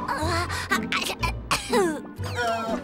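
A few coughs from a cartoon character mixed with voices, overlapping a child's speech-like sounds; close and fairly loud.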